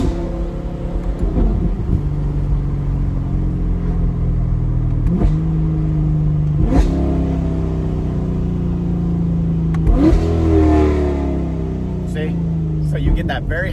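A tuned C8 Corvette with an ECU unlock and race tune revs repeatedly to a high, sharp pitch, each rise and fall loud and close, the engine drone continuous throughout, with no pops or burbles.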